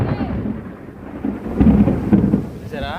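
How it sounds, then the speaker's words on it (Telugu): Thunder rumbles low and heavy through steady rain in a village, a deep rolling crack swelling midway, loud and close. "అది మెరుపు వచ్చింది చూసావా?"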